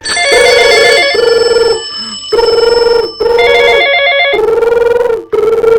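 A loud electronic phone ringtone repeats over and over in steady tonal bursts, with brief gaps and no talking.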